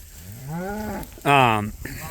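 Cows in a herd out on open farmland moo twice, a long drawn-out call followed by a shorter, louder one, close by and with nothing else heard over them.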